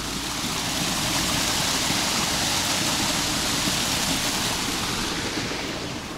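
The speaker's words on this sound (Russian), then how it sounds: "Видите, вот такой здесь небольшой водопад." A small waterfall rushes in a continuous, even roar of falling water, broadband and steady, heard close with no other sounds.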